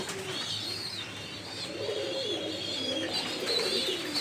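Pigeons waiting to be fed grit coo continuously in throaty, rolling phrases close by, several birds overlapping at a steady moderate level.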